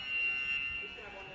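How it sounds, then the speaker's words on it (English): A futsal timeout buzzer sounds in a sports hall as one steady electronic tone that holds for nearly a second and then fades under a commentator's voice. "Once the buzzer goes at the end of it"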